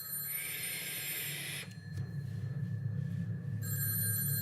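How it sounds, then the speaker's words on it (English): A hotel telephone rings in a horror film, a bright electronic bell that sounds, pauses for about two seconds over a low droning rumble, then starts again, with no voices. "It's the hotel phone."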